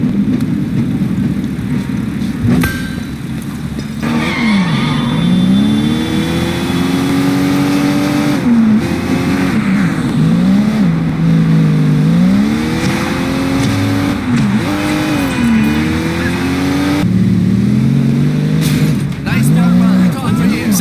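Car engine in the open-world game Sleeping Dogs, a steady drone with rising and falling revs as the vehicle accelerates and shifts, continuous throughout with voices and background music mixed in.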